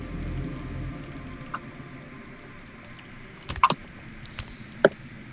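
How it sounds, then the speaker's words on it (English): Sparse water drips echo underground in a Game of Thrones video game, a few isolated plinks and squishy drops scattered over a low ambient hum, with no talking. "That's water. I hear water. From underground."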